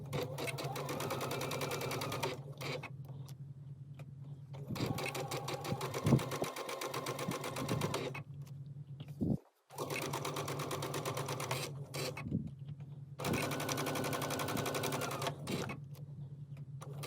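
A sewing machine stitches layers of quilt sashing, batting and a block together, running in steady whirring bursts of a few seconds each, separated by brief pauses, fairly quiet and close.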